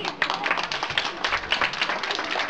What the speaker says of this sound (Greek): Αυτό το χειροκρότημα ανήκει στους γονείς